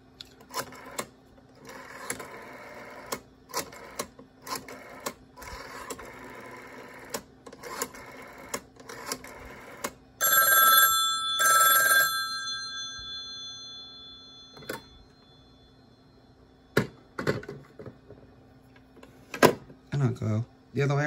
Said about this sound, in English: dial the 500, or the 2500 rather